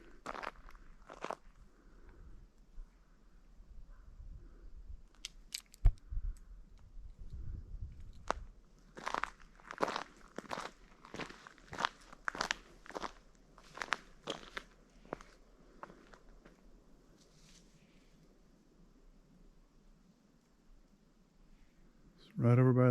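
Bear moving around a campsite at night, heavy footsteps crunching on ground litter in irregular bursts, mostly faint and at a distance, with quiet stretches between and a louder rustle at the very end.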